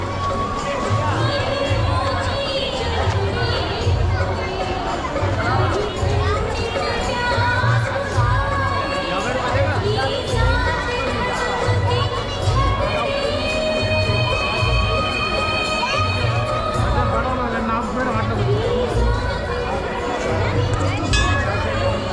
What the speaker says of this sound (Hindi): बट अभी बहुत ही ज़्यादा भीड़ है यहाँ पे